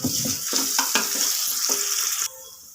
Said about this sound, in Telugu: వేసుకుని దూరగా వేయించుకుందాం కొద్దిగా అల్లం వెల్లుల్లి పేస్ట్